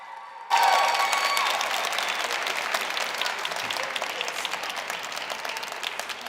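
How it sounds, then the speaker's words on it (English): Applause bursts out abruptly from an audience at a Language Awareness Week opening after a speech, strong at first and then settling into steady, slightly fading clapping from a sizable crowd. "let's give Mr. Nkosinathi Tom another hand of applause"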